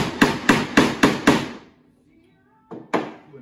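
Wooden dowels are hammered through a metal sizing plate during carriage house window restoration: five quick, sharp blows in a steady rhythm, a pause, then two more strikes, close and loud.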